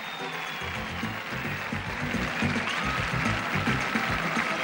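A Maltese audience at Jeux Sans Frontières 1994 in Valletta applauds, a steady, dense wash of clapping from a large outdoor crowd that holds level for several seconds with a faint background hum.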